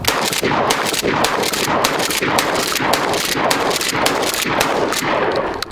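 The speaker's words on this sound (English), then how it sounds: "this is a mechanically operated shotgun, meaning that you have to run that action" A mechanically operated pump-action shotgun being fired: a loud, rapid string of sharp blasts repeating close together for several seconds, each with a short ringing tail, nearby and with no talking.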